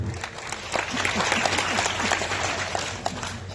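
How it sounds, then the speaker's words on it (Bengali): Steady audience applause fills a celebration hall, many hands clapping together at a fairly loud, even level for a few seconds, with faint crowd murmur underneath. "ওনাদের জোর করতালি যাচ্ছি"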